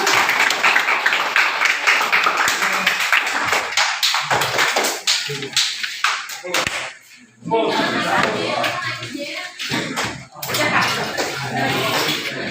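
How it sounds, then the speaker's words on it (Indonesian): Students in a classroom clap together, loud and close, in dense bursts that thin out and pick up again, with sharp individual slaps and some chatter mixed in. "Tepuk tangan untuk kita semua."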